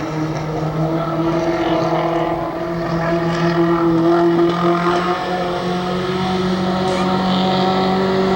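A race car engine revs at a pit stop during a 1982 short-track pit stop championship at Rockford Speedway. The loud, sustained tonal drone holds steady throughout, close and unbroken.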